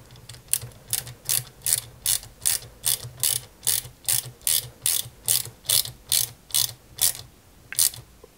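Screws being driven into a 1/8 scale Ferrari 330 P4 model, heard as a steady run of about seventeen evenly spaced ratcheting clicks, close and clear, with no talk.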